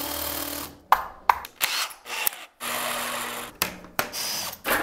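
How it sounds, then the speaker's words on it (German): A power drill whirs in repeated bursts with short pauses between, loud and close, boring holes into a wall. "ein paar Löcher in die Wand bohren"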